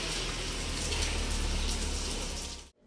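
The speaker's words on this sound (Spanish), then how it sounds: "el güero le está echando agua al carro" A steady, loud hiss of water spraying onto a car during a wash, continuous and close with no talk, cutting off abruptly near the end.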